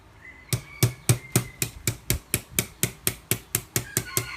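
A tree graft on red tamarind is hammered in with about fourteen sharp, evenly spaced taps. The strikes are close and crisp and come at a steady rhythm.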